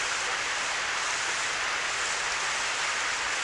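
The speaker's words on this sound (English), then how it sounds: "I hear the sound of waves breaking at the bottom of the cliff." Waves breaking at the foot of a cliff in the Never7 visual novel, heard as a steady, dense wash of surf noise with no distinct individual crashes, continuous and fairly loud.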